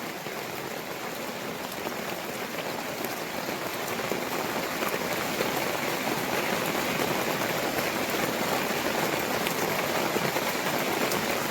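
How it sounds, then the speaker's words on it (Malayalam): Steady, dense rain pours down on a surface nearby, a constant hissing patter that grows slightly louder and never lets up, with no voices. "ഇവിടെ ഇപ്പോഴും മഴയൊക്കെ തന്നെയാണ്"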